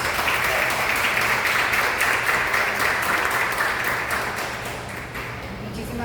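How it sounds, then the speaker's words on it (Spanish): A strong, dense round of audience applause rises for the speakers at a book fair presentation in a hall, holding steady before fading slightly toward the end. "Démosle un fuerte aplauso a la ponentes"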